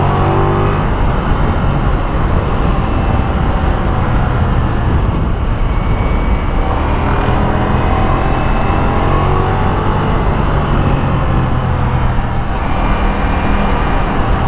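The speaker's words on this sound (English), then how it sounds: "When the valve opens, the exhaust sounds great." A motorcycle exhaust roars steadily and loudly as the engine pulls hard with the valve open, a dense, continuous rumble with shifting pitch as revs rise and fall, heard from close by while riding.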